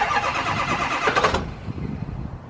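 A starter cranks a 6.0 Powerstroke diesel pickup truck engine on a cold start with a rough, chugging whir for over a second, then cuts off, leaving a low rumble fading behind.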